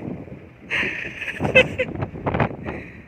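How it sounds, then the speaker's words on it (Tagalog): Gusty wind buffets the microphone in rough bursts while people talk and call out nearby, outdoors in Rhodes, Greece. "At sobrang lakas ng hangin."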